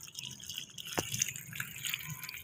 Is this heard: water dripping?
yes